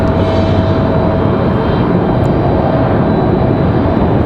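Boeing 777 jet airliners depart Raleigh Durham International Airport, a loud continuous roar of jet engines that stays steady and broad throughout, heard from a plane-spotting position with no talking.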